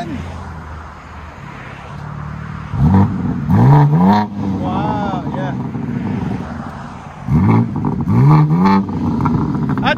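A BMW M3/M4 3.0L turbo engine with a resonator-delete exhaust revs sharply twice, each rising blip ringing out loud and close before falling back to idle, while people talk over it.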